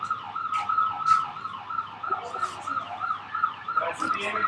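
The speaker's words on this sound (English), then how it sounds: "Can you hear the sirens?" Emergency vehicle sirens wail steadily in rising and falling sweeps, a continuous warbling tone with a faint higher echo, heard alone at moderate volume.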